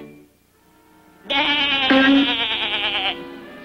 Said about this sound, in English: she barks just like a sheep.